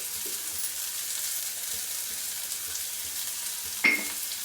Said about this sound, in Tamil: வெங்காயத்தை லேசாக உப்பு கூட தூவி வணக்கலாம்.